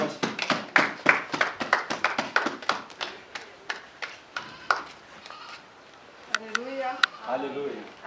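A church congregation claps in a quick, sharp, uneven burst that thins out to scattered claps, with voices rising toward the end.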